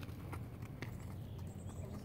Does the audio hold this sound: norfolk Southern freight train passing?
no